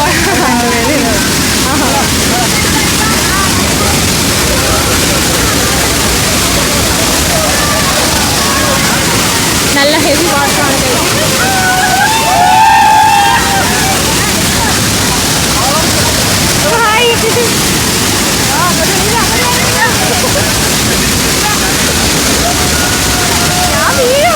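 Kappimala waterfall in Kannur rushing and foaming, a loud, steady roar of churning water filling the whole stretch, with faint voices of people mixed into the noise.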